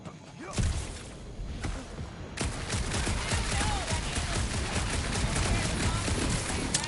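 Sci-fi video game gunfire rattles in dense, continuous bursts through a dark monster-filled area, loud and sustained, with scattered thuds and whooshes mixed in.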